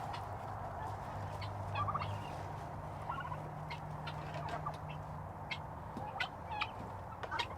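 Several turkeys gobble in a farmyard alongside other fowl, the calls coming in repeated bursts over a steady background of bird chatter. No one speaks.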